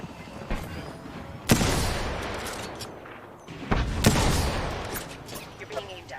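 Gunfire in the video game Apex Legends comes in two loud bursts of shots over a steady noisy game background, with further faint pops near the end.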